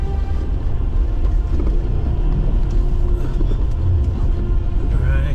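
A Jeep Gladiator grinds up steep rock ledges off-road, its engine rumbling loud and close, with people talking over the climb.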